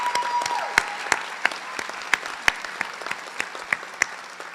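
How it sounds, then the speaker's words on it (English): Audience at a nurse pinning ceremony applauds steadily, a moderate crowd clapping with a few loud, distinct claps popping out close by over the wash of hands. "let's just give a round of applause for all these people that are supporting our students"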